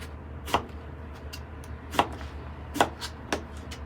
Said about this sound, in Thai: มะเขืออ่อนนะคะ รีบหั่นรีบเอาลงนะคะ